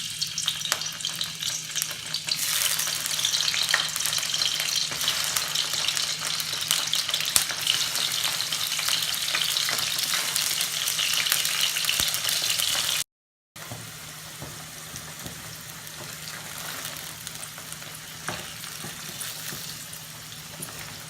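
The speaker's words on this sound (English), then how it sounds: "Now we will shallow fry our paneer." Paneer shallow-frying in oil for kadhai paneer gives a steady, close, continuous sizzle with fine crackling, broken once by a brief silent cut before the frying resumes slightly softer.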